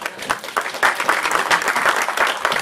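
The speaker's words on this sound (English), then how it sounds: "Come on, give him a clap." A small audience at a speakers club meeting gives a short burst of clapping, close and uneven hands beating together for a couple of seconds with no talking over it.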